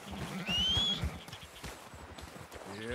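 Horse in Red Dead Redemption II running with rhythmic hoof clops and a high whinny near the start, game ambience and a rising tonal cue behind.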